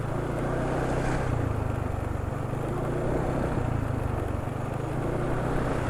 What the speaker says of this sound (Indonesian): RPM mesin cepet turun.